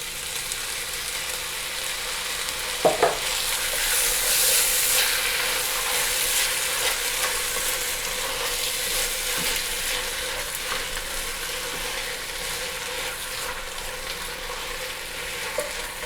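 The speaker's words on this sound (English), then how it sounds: "Add chopped tomatoes or a tomato puree and stir some more." Chopped vegetables and tomatoes fry in hot oil in a pot, giving a steady even sizzle with a couple of short stirring knocks early on, close and continuous.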